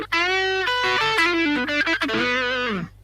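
An electric guitar with Fishman pickups in a split-coil setting plays a short distorted phrase of sustained notes with sliding pitch bends, processed through effects and ringing clearly before fading out.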